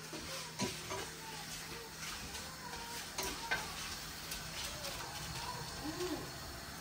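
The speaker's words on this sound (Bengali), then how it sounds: "একটু নাড়া দিয়ে আমার শুটকিটা" Dried fish (shutki) is stirred in a pan, giving a faint, soft sizzle with light scraping clicks from the utensil and a few brief knocks, while people talk quietly in the background.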